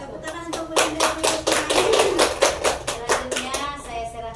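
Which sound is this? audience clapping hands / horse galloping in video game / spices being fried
audience clapping hands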